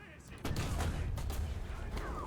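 Tank cannon fire in the War Thunder video game, a sudden loud blast followed by a sustained rumbling roar, with someone talking over it.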